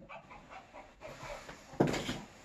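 A dog chasing chickens pants in quick, faint rhythmic breaths at a distance, followed by a louder burst of movement and noise near the end.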